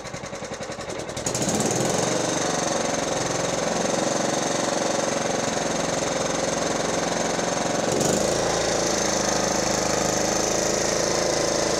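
A loud, steady small-engine drone runs without pause from an STX38 lawn tractor idling on little fuel, with oil leaking from the oil pump cover, after a brief rougher start.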